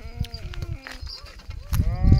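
A goat bleats several times in a pasture where sheep graze, with wavering, nasal calls in quick succession, the last one loud and close against a rough background of movement.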